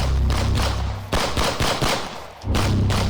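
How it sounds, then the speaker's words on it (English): Rapid bursts of loud gunfire in the video game Tempus Triad, repeated shots rattling in quick succession with brief pauses, dense and booming like a firefight. "always follow the gunshots"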